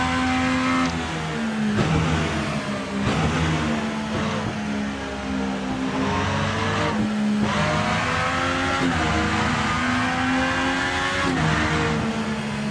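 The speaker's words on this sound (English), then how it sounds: "You do have to get used to the sounds of the cars though" Race car engines in the Rennsport racing game whine and rev continuously, touring cars' pitches rising and dropping as they shift gears and pass, loud and unbroken.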